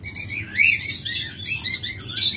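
Caged pet cockatiels and lovebirds kept for sale chirp in quick, overlapping bursts of high tweets, close and fairly loud, over a low background hum.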